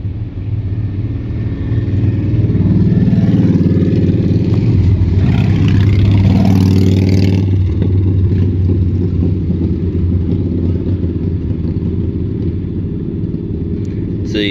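Close, loud and steady idle from a car engine just after an O2 sensor repair, a deep continuous rumble with a smooth, even tone and no revving.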